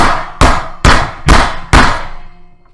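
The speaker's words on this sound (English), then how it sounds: "Then we could take our sheet metal hammer and our flathead screwdriver," A sheet metal hammer drives a flathead screwdriver into sheet metal with five loud, evenly spaced blows, each a sharp metallic bang with a short ringing decay, close and alone.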